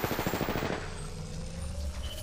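A rapid burst of automatic weapon fire in Apex Legends rattles for under a second, then gives way to a fading, ringing tail.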